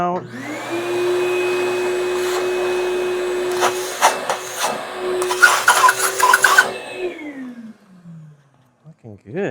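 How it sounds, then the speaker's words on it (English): A shop vacuum whirs steadily for several seconds while clearing drilling debris from a finger hole in a damaged bowling ball, with bursts of louder clattering partway through before the motor winds down. "Let's vacuum that out."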